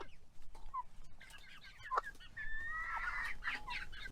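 Chickens cluck and squawk inside a coop in the morning, several birds calling in scattered bursts that swell into a busier, louder chorus near the end, with no talking.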